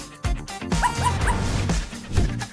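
A puppy gives a quick run of high yips and small barks with whimpering tones, close and fairly loud against a faint hum.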